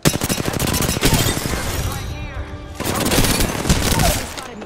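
Gunfire in the Apex Legends video game, sustained rapid bursts of shots running through most of the stretch with a brief lull in the middle, with a player speaking over it.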